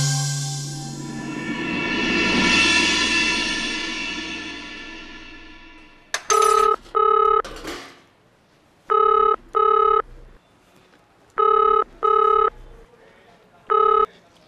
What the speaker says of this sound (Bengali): ওনাকে কি একটা ফোন করা যাবে?